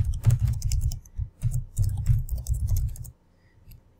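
Computer mouse clicks on a buy-now button during a web checkout, a quick run of small clicks and taps close to the microphone, then a quiet pause.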